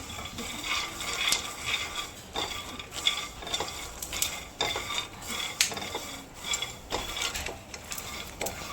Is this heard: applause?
no